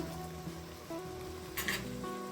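Masala for egg dum biryani, with lemon juice added, frying in a pan while a spoon stirs it, a soft steady sizzle with faint scraping and a brief clink of metal.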